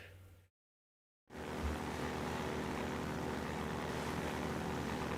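Helicopter in Half-Life 2, a steady loud rotor and engine drone that cuts out briefly near the start, then holds continuous and close.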